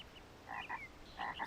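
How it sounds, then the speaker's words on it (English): A cartoonish frog croak from the 1998 Living Books game D.W. the Picky Eater, voiced by a horse character, comes in two short bursts of bright, warbling croaks separated by a brief pause. "Frog?"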